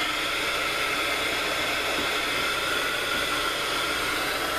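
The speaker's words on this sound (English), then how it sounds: "Sorry about the noise from the heat gun." A loud, continuous hiss of a heat gun blowing, steady and broadband with no pauses, close to the listener.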